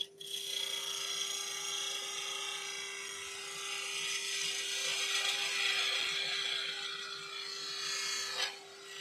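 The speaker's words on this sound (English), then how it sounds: "I'm doing a planing cut as opposed to a bead forming, really" A skew chisel heel makes a planing cut on wood spinning on a lathe while shaping a Christmas snowman, a steady close hissing shave over a constant motor hum, ending with a brief knock.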